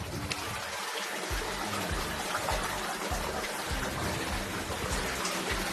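Water trickles and rushes steadily from the main water source, fed by a pipe among mangroves on Iling Island, a continuous close wash of flowing water with no voices.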